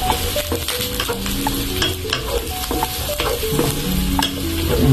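Shrimp frying in garlic butter in a pan, cooked until golden brown, with a steady close sizzle and repeated stirring scrapes of a utensil, growing slightly louder toward the end; no talking.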